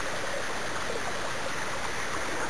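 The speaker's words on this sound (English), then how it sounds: "Can you hear the flow of that water?" Water rushes and burbles steadily in a flowing stream, a continuous close wash of sound with no voices.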